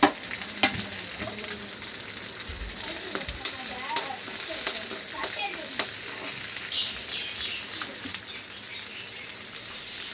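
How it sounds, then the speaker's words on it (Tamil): Small onions (shallots) sauté in a pan with a steady, bright, close sizzle and occasional stirring scrapes throughout, with no talking. "ஃபஸ்ட்டு வெங்காயத்தை நம்ம வதக்கிக்கலாம். சின்ன வெங்காயம் எடுத்துருக்குறேன்."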